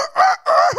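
A voice imitates a rooster crowing, two loud drawn-out cock-a-doodle-doo calls with a short break between them, heard close and alone inside a Korean church at a special Lent dawn prayer service.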